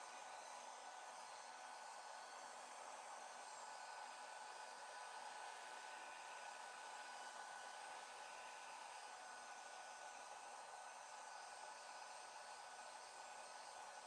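A hair dryer blows steadily and close up for the whole stretch, drying craft paint on a recipe box project, a continuous even whoosh with no talk over it.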